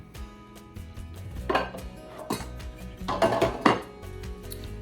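A hot pot lid clinks and clatters as it is lifted with pinch grippers while chili cooks, a few sharp metallic taps and scrapes over a faint kitchen hum.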